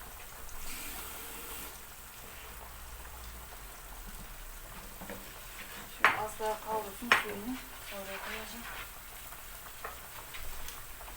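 Tomato paste sautéing in a pan, a faint low sizzle with a few sharp utensil scrapes and clinks near the middle, otherwise quiet.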